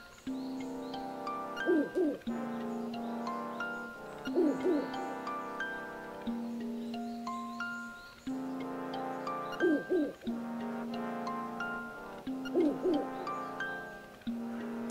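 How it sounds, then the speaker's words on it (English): Repeated soft hooting calls from the owl character in the video game Link's Awakening, in rhythmic bursts over a melodic game music background, with no talk. "Owl again."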